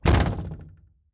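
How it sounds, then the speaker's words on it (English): A door shuts with one solid thud that rings briefly and fades, close and fairly loud in a quiet room. "getting in and closing the door behind me"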